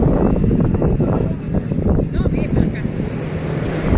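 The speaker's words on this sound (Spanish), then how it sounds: "está fuerte el oleaje" Strong surf at Playa del Morro, a continuous roar of breaking ocean waves close by, buffeted by heavy wind noise on the microphone.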